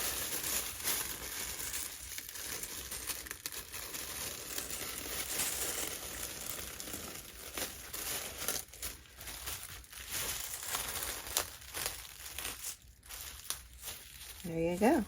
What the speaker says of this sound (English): So I just take my time and kind of peel the plastic bag back.